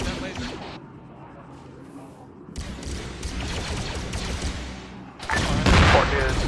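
Artillery rounds fired in a video game with military radio chatter: loud booming blasts and crackling fire, growing heavier near the end, with voices talking throughout.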